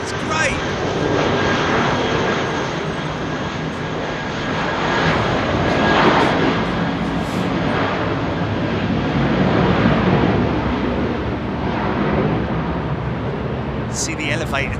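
Airliner engines roar at London Heathrow Airport on a windy day, a loud broadband rumble that swells and eases in waves as aircraft depart, with faint voices nearby.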